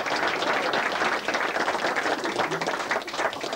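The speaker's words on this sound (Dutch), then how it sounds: "Ik wou gewoon zo een applaus voor Seije van der Veen voor zijn prestaties." A large crowd applauds strongman Seije van der Veen at the 1987 Strongest Man of Friesland contest, with loud, dense, sustained clapping that stays steady for the whole stretch.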